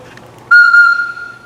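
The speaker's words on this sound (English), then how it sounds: "So let's start with the train whistle." A small homemade wooden toy train whistle gives one loud, steady, clear toot lasting about a second, heard up close and alone.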